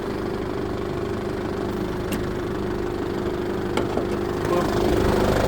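A 2005 Isuzu Dragon pickup with a BDI diesel engine idles steadily and close, a constant low rumbling clatter with a slight rise near the end.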